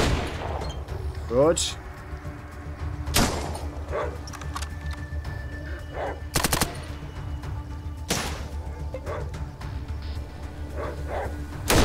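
Gunfire in the post-apocalyptic RPG ATOM RPG, several loud sharp shots and a short rapid burst spaced across the stretch, with in-game ambience between them and a brief spoken word.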